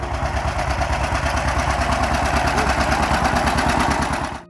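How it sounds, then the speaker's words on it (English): A John Deere Model A tractor from 1934 to 1952 thumps away with a rapid, even, loud engine beat, steady and close for several seconds before cutting off abruptly. "all you need to hear is the familiar thump-thump of the John Deere Model A"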